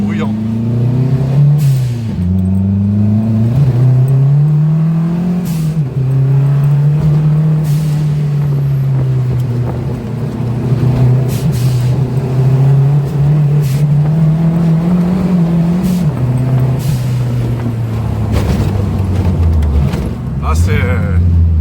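A Renault Super 5 GT Turbo with a wide-body kit revs loudly and close, its engine note sweeping up and down through gear changes with turbo whoosh during a test drive, while people talk over it.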